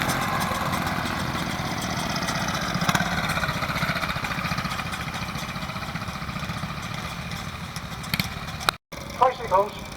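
A small Villiers engine runs steadily on a vintage tricycle at a steam rally, with a continuous putter close by and people talking over it, briefly cut off near the end.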